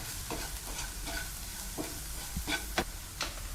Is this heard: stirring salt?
yes